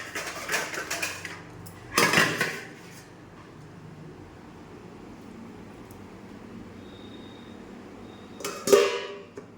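Metal lid set onto a pot of khichuri cooking on the stove, several bright clanks and rattles of cookware in short bursts at the start, middle and end, with quieter kitchen bustle between.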